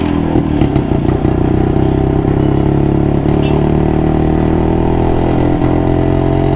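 A Yezdi motorcycle's engine runs steadily after a kick-start, a loud, continuous low thumping idle with some mechanical clatter throughout.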